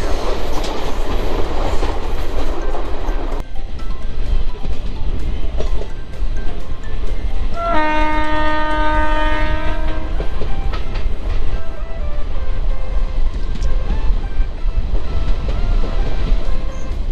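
The Hirakud SF Express, an LHB-coach train, runs through a hill section at moderate speed with continuous rumble and wheel clatter on the rails, and a long two-tone horn sounds midway.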